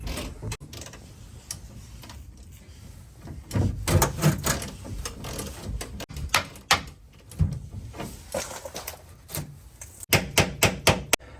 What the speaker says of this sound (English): We're gonna go ahead and keep knocking that out until it comes off.